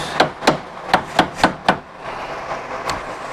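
Six sharp hammer strikes ring out at a quick, steady pace as a disc brake part is knocked loose on a rare 1960s AMC muscle car, followed by a softer single tap, close and loud.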